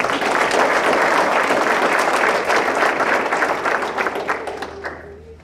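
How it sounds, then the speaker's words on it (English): A fair pageant audience applauds a winner with loud, dense, sustained clapping filling the room, which holds steady and then tapers off toward the end with a brief low hum underneath. "Let's give her another round of applause."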